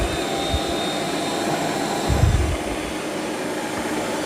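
A Eufy robot vacuum runs on carpet at increased suction with its side brush spinning, making a steady whirring drone with a brief louder bump midway.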